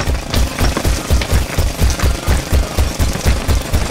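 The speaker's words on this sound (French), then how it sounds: "Le marteau-piqueur casse le béton!" A cartoon truck's jackhammer breaks concrete in loud, rapid, rhythmic pounding bursts, close and continuous throughout.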